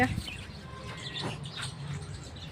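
Sparrows chirp in short bursts over outdoor background noise, with a voice talking nearby under the twittering.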